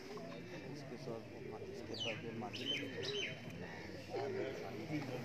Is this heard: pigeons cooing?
yes